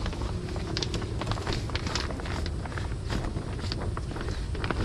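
Steady broadband wind rushing outdoors, a constant blustery roar with faint scattered ticks and rustles, no voices.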